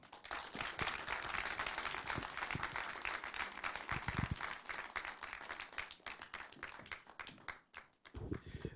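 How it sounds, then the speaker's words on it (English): An audience at an economic dialogue on Ponzi schemes gives a sustained round of applause, dense clapping that stays fairly even before thinning into scattered claps near the end. "Round of applause for him again, please, ladies and gentlemen."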